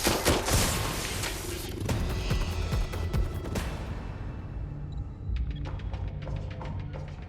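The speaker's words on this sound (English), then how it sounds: "I'm hearing gunfire." Gunfire in the video game Watch Dogs: Legion: a dense, loud burst of repeated shots for several seconds, then quieter scattered cracks and clicks.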